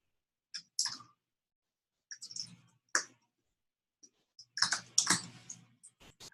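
Soft computer keyboard typing comes in short, scattered bursts of clicks separated by silent pauses, close and quiet, with no voices.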